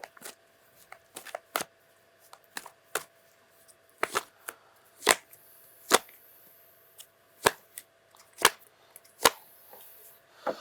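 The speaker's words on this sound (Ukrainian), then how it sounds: "Почала тріщати свічка." A burning candle crackles in a quiet room, giving sharp, isolated pops and snaps at irregular intervals, close and fairly crisp, with no talk.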